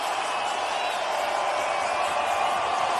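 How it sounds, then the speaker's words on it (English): A packed college football stadium crowd at New Mexico State vs New Mexico roars in a dense, sustained wash of cheering before a third-and-four play, loud and continuous throughout. "Listen to this crowd."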